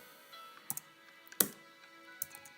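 A few light, scattered keystrokes on a computer keyboard while coding a MATLAB alarm clock app, quiet and sparse with pauses between taps.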